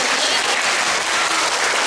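A school crowd gives a loud, sustained round of applause for the Kernan All-Stars, many hands clapping in a dense continuous roar with no talking over it.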